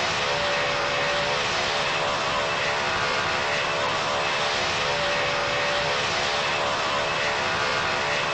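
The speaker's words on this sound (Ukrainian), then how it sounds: "Садимо цей великий літак." A large airplane engine in a flight video game roars as a constant, dense, loud whine and rush with no break or change in level.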